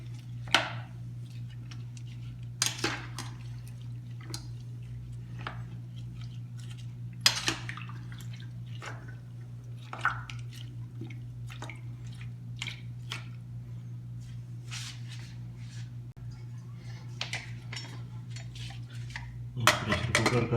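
Beef and about 1.5 litres of water with turmeric being mixed in a pressure cooker, giving scattered soft squishes and a few sharper utensil clinks against the pot over a steady low hum, with no talking.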